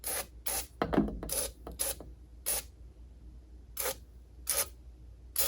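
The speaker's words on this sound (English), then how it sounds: "We're going to spray some PB Blaster, let it sit overnight." Several short hissing bursts of PB Blaster penetrating oil sprayed from an aerosol can onto a rusted boat outdrive bearing carrier, spaced irregularly, with a clunk of handling between them; fairly close, no talking.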